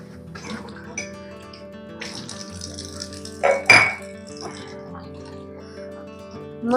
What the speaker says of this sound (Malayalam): പാത്രം കഴുകിത്തരണമ്മക്ക്